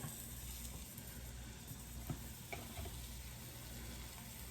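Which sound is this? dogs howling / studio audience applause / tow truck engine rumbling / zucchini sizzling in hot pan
zucchini sizzling in hot pan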